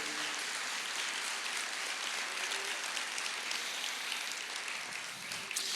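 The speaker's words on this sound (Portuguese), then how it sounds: "Você pode aplaudir o Senhor" A church congregation applauds, a broad, steady wash of clapping that sounds somewhat distant and soft, continuing evenly without a break for the whole stretch.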